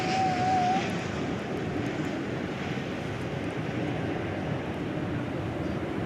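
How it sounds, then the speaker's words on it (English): A Frontier Airlines jet approaches to land at DFW Airport, a sustained broadband engine roar at moderate distance holding steady throughout, with a brief tonal whine near the start and no talk. "let's divert here for a Frontier flight coming in."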